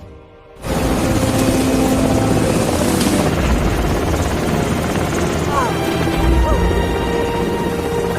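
A helicopter roars loud and close, its rotor thudding steadily after a brief quiet start, with no voices over it.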